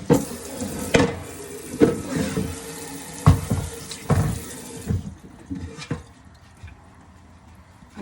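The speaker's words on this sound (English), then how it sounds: "Rinse this bowl up." Tap water runs and splashes as a bowl is rinsed in a kitchen sink, the flow surging and clattering in bursts for several seconds before the tap shuts off and it goes quiet.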